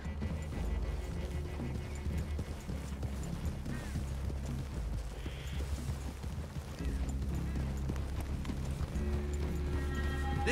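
Horses' hooves clip-clop steadily in the Red Dead Redemption 2 video game, a continuous rhythmic trot under a low background score, with faint game ambience and no clear talk.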